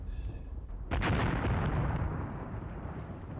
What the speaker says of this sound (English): I want to get another barrage in from here